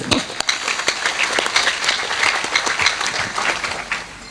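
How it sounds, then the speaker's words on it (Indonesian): Audience applause at a university anniversary gathering with religious singing fills the space as a dense, steady wash of many hands clapping for several seconds, with a few louder claps standing out near the start. "Tepuk tangan untuk keyakinan kita ke depan."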